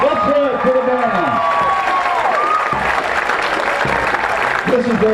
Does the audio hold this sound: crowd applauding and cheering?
yes